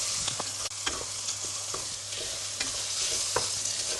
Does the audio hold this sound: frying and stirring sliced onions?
yes